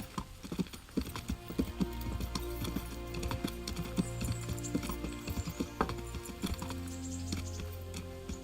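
Steady clip-clop of horse hooves in the video game Kingdom Come: Deliverance, with busy background clatter, continuous throughout, fairly close.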